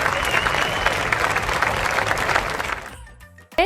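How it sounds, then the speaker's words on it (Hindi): Loud, steady applause from a crowd at an awards gala night fills the room for a few seconds, then cuts off abruptly. "आपकी भरपूर तालियों में"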